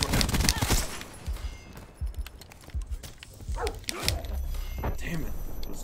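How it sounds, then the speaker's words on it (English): Attack dogs in the video game Black Ops 4 let out several sharp barks and yips, tangled with bursts of gunfire and busy game effects, while voices talk over the action. "Damn it, those dogs."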